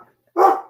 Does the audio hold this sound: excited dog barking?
yes